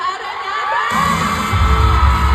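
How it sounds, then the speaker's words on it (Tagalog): A crowd screams and cheers loudly at a fan meet, high excited voices swelling and overlapping into a sustained roar. "Grabe yung hiyawan ng araw"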